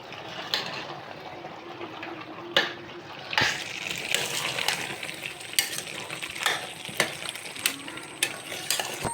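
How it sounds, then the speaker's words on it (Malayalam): Mutton curry fried dry in a pan with chili powder and spices, no water added, sizzling steadily while a spoon stirs and scrapes it in repeated sharp knocks, close up and moderately loud. "നല്ലതുപോലെ വെള്ളം വീത്താതെ നല്ലപോലെ വറുത്തി കൊടുക്കണം"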